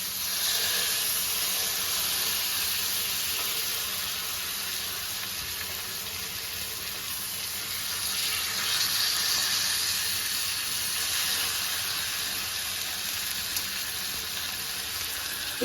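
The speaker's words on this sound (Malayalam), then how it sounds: "നമ്മൾ ജസ്റ്റ് ഓയിലും ബട്ടറും കൂടി ഇട്ടിട്ടൊന്ന് ഫ്രൈ ചെയ്തെടുക്കും" Chicken pieces fry in a pan of hot oil and butter, giving a steady, loud, dense sizzle with soft crackle that holds evenly throughout, no voices present.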